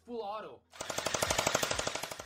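Toy gel blaster firing in full automatic mode, a rapid even burst of about twenty sharp pops lasting under two seconds, close and loud, following a brief spoken sound at the start.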